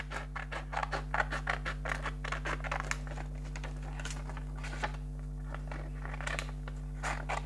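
Scissors snip around a paper cutout for a winter card, making a quick, steady run of close crisp cuts over a constant low electrical hum, with no talking.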